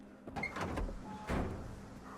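An automatic door sliding open in the video game S.T.A.L.K.E.R. 2: Heart of Chernobyl, two short mechanical whirring pushes with a faint motor hum, fairly quiet and alone.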